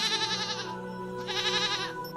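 Animated goat bleats twice up close, two wavering, nasal cries separated by a short gap.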